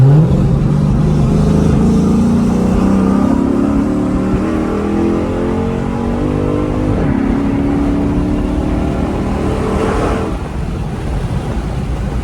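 A Dodge SRT8 V8 engine drones loudly and continuously inside a tunnel, with its pitch climbing and falling under acceleration, echoing close by before easing off near the end.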